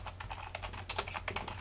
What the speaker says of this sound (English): you're just going to type in